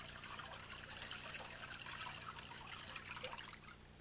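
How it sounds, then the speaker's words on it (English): Cold water pours steadily from a bucket onto a person's feet during a hot foot bath, making a continuous close splashing trickle that runs unbroken for about four seconds. "pour the cold water on his feet."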